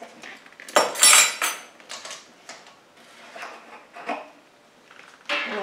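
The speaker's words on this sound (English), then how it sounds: "I'm going to stir it around a bit to get it all off the spoon." A spoon stirs half a teaspoon of seaweed extract into water in a container, producing several close, clinking scrapes and taps in uneven bursts with quiet gaps between, no voice over them.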